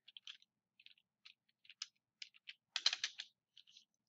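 Someone types on a computer keyboard in short, uneven bursts of quiet key clicks, with a denser flurry partway through and brief pauses between.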